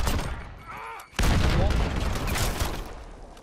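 Close gunfire bursts and a loud grenade blast in Call of Duty Modern Warfare Gunfight, the sharp explosion hitting at once and followed by dense, sustained shooting that fades toward the end.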